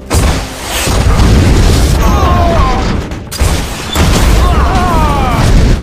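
An RPG round fired during an ambush, with heavy booming blasts and rumbling that swell, briefly drop out, and return, mixed with shouting voices and very loud distorted noise.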